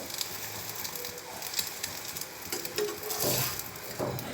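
Bread laid over egg spread in hot oil fries in a pan and gets turned with a metal spatula. A steady, crackling sizzle runs throughout, broken by a few brief scraping flips near the end.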